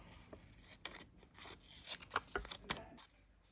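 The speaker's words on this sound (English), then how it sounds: "And I'm going to trim this off." Scissors trimming scraps of paper for handmade tags, a handful of quiet snips and rustles close up, irregular and soft.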